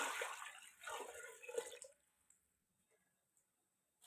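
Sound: water being poured into a cooking pot

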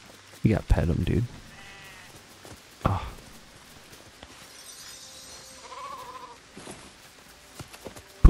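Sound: sheep bleating in the video game Sekiro

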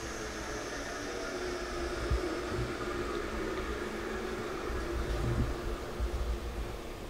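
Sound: arch moulder spindle winding down after switch-off

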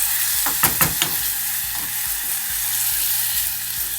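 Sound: stirring onion stuffing with salt and water in pan

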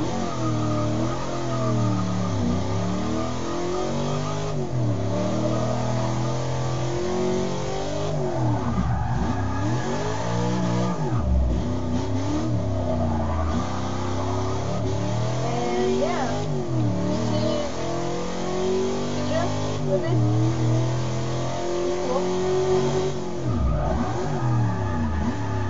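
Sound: car engine revving while drifting in video game Forza 6

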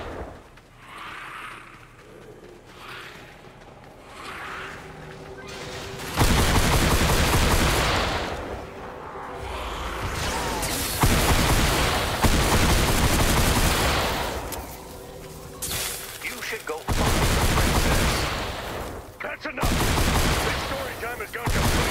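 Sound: gunfire shooting monsters in a video game

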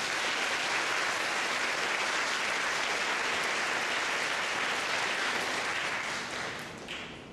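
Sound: audience applause for the Ford marketing team

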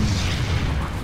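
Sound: explosion in video game Planetside 2

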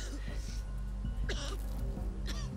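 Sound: coughing and throat clearing

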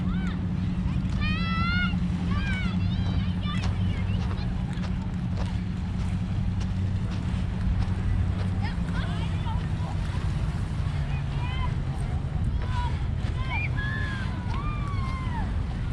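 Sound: strong wind by the sea

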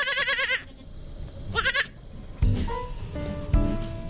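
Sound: newborn baby goats bleating

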